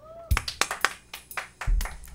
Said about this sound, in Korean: 자, 박수 한번 쳅시다.